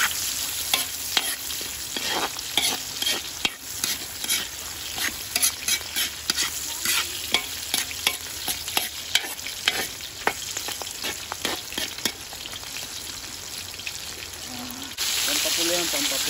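Ginger, garlic and onion sizzle and crackle in a pan beside a river as they are stirred, with frequent scraping clicks from the utensil and a louder burst of frying near the end.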